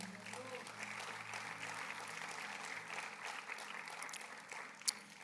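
A church congregation applauds during a sermon, a steady, fairly faint wash of many hands clapping for about five seconds, with a preacher's voice carrying over it.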